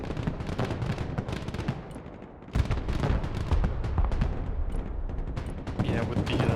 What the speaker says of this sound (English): My opponent is using the barrage to engage my infantry.